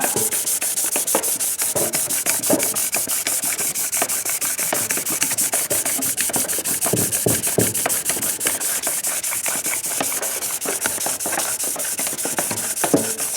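A homemade hand-crank polisher grinds and rubs steadily against the metal, a dense rhythmic scraping with a fast repeating pulse that carries on without a break.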